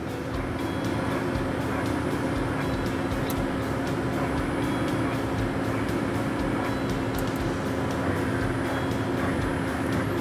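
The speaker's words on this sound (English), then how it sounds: "now we will jog the axes to verify motion" A MachMotion X15-250 CNC machine jogs its axes with a continuous, faint mechanical whir and a steady hum. Light ticks and clicks sound now and then, with no talk.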